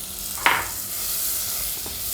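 Long-sliced onion dropped into a hot pan for capsicum soup fries with a soft, steady hiss, broken early by one sharp scrape or stir.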